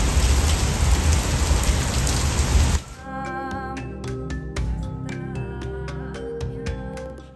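A heavy rain shower pours down in Taiwan in July: a loud, dense, steady downpour for about three seconds that stops abruptly, followed by music.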